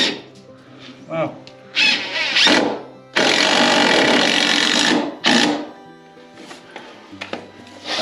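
A power drill drives screws into wooden basement stairs, several loud whirring bursts of varying length with squealing, separated by quieter gaps with faint voices.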